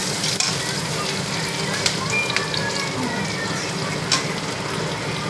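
Cumin seeds, bay leaf, onion and garlic fry in hot oil with a steady, close sizzle and a few light clinks of a spoon stirring the pan; no one speaks.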